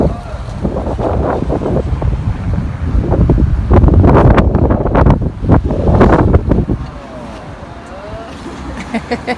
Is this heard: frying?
no